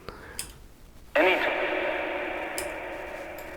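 A burst of sound blooms into a wide, washy reverb tail, made in Ableton with the decay time increased, that lingers and slowly decays over several seconds, with faint clicks near the end.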